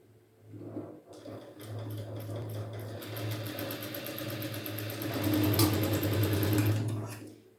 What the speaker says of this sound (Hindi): अब यहाँ पर भी हम ऐसे ही सिलाई लगा देंगे।